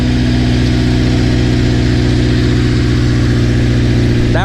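The engine of a right-hand-drive Honda EJ1 sitting in a junkyard runs loud and close with a steady low throb as the car is put into first gear to pull away.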